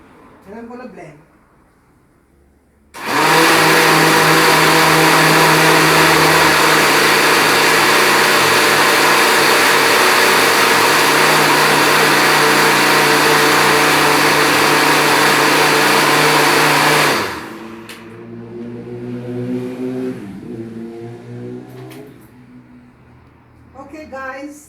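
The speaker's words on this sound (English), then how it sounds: "And I'm going to blend" A blender whirs loudly and steadily for about fourteen seconds, blending garlic cloves with water, then cuts off abruptly as a person starts talking, with quiet talk also heard before it starts.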